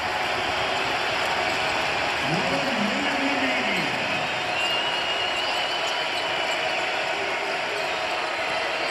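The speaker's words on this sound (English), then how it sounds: "Comes the crowd." A loud arena crowd roars steadily through a Maryland vs Washington college basketball game in its final minute, a broad continuous wash of cheering with faint court sounds mixed in.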